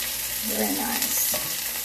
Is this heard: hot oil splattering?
yes